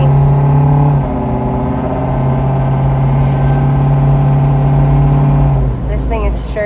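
A 1962 Buick Special Wagon engine drones steadily while driving, a loud low hum that shifts in tone midway, with someone talking over it throughout.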